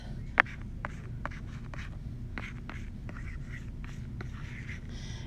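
Pencil or pen writing fractions by hand on paper, quiet scratchy strokes and taps in short irregular bursts over a low background hum.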